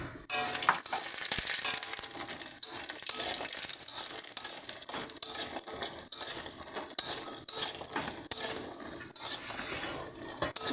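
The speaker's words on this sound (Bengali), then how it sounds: "এবার আমরা বড়িগুলো দিয়ে ভেজে নেব।" Lentil dumplings (bori) fry in hot oil for a bottle gourd stem curry, giving a steady, loud, dense sizzle with occasional stirring scrapes throughout, and no voices.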